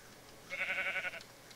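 Sheep in the Minecraft video game: a single short, wavering bleat, fairly faint and alone.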